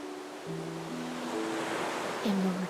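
Steady rushing ocean surf from Honkai: Star Rail fills the scene as a soft, continuous wash, with low sustained musical tones and a voice speaking over it.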